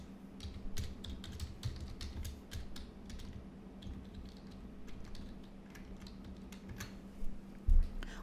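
A website name is typed on a computer keyboard, giving a run of quick, light key clicks at close range over a low steady hum, with a heavier thump near the end.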